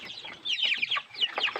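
Dongtao chickens cluck in a short run of close, bright, repeated calls, several quick clucks in a row with brief pauses and no voices.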